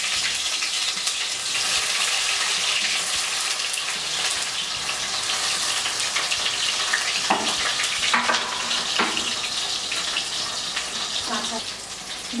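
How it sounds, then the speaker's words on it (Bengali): Raw banana pieces fry in plenty of hot mustard oil in a wok over high flame, giving a steady, close sizzle that fills the whole stretch, with occasional stirring clatter and spatula scrapes near the end. "কড়াইটা গরম করে নিয়ে সর্ষের তেল দিয়ে কলাগুলোকে ভেজে নেব।"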